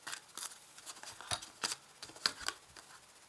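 A tarot card is drawn from the deck with a quick run of close, dry papery flicks and slides, followed by soft taps as the cards are handled. The sounds are faint and come alone.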